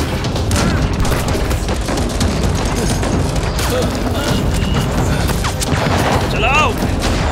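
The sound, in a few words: gunfire in sci-fi action movie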